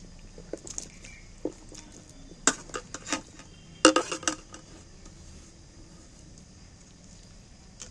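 Cut jackfruit pieces are dropped into a bowl of lemon water, making a few irregular knocks, clinks and wet plops against the bowl, with a brief cluster of louder clatter near the middle, close and otherwise quiet.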